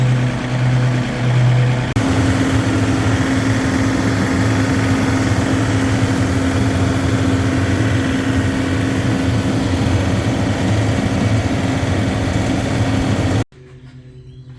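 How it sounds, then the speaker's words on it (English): Lawn mower running on a rural property, a steady, fairly close engine drone holding at constant pitch and loudness for over ten seconds before cutting off abruptly. "Kelly's mowing the lawn"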